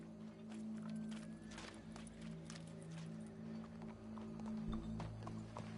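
Horse hooves clip-clop steadily in Red Dead Redemption 2, a moderate, regular beat of footfalls under a low droning hum, with no talk over them.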